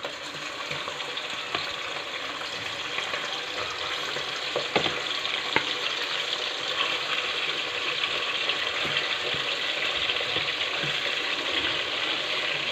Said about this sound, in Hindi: सबसे पहले चिकन को डालेंगे ऑयल में, इसको करेंगे फ्राई अच्छे से